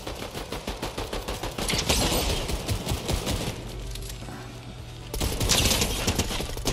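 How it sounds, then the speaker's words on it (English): Bursts of Hyper SMG fire in a Teenage Mutant Ninja Turtles battle arena video game, fast evenly spaced shots at the start, then a dense loud rattle of overlapping gunfire, a brief lull, and another strong burst near the end. "That Valeria's Hyper SMG does just smart work, clean work."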